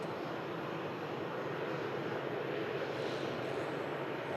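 A Ryanair airliner arriving and taxiing at Manchester Airport, producing a constant dense engine rush and rumble, fairly loud and unchanging across the few seconds, with no voices.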